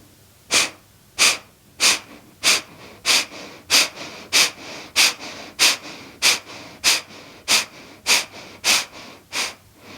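Steady, rhythmic breaths during a yoga abdominal-strengthening exercise, about fifteen sharp airy bursts in ten seconds, close and clear with no talking.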